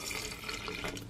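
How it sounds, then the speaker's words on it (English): Water is poured into a recipe mix for a vegan loaded baked sweet potato, a steady close splashing and trickling that runs unbroken for about a second with no talk over it. "To that, I will add 1 cup of water."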